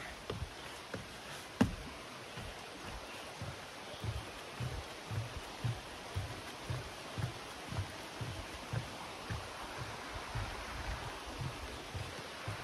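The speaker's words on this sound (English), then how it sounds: "And as you can see, it is raining. Just sprinkling now" Faint, soft patter of light rain on the Appalachian Trail in Virginia as a steady hiss with gentle irregular pulses, distant and quiet, no voices.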